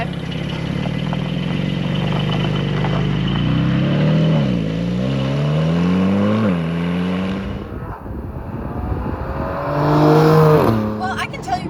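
Car out for a drive on country roads, engine pitch rising and falling through several gear changes, with loud passes of engine sweeps near the end; fairly close and prominent.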